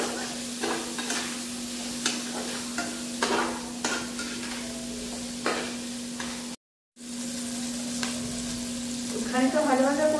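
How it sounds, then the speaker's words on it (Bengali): Pieces of rohu fish frying in oil with salt and turmeric, a close, steady sizzle broken by repeated stirring and scraping strokes, with a short gap of silence partway through. "নুন আর হলুদ দিয়ে খানিকক্ষণ ভাজা ভাজা করে নিই, তারপর মশলা দেবো।"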